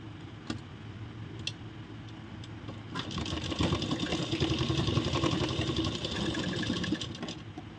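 A sewing machine stitching palazzo fabric together with elastic, starting with a few light ticks and then running in a steady close whirring hum with rapid needle clatter.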